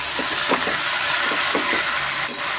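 Chopped onion frying in hot oil for a mutton sambar, giving a steady close sizzle with brief stirring scrapes and no talk.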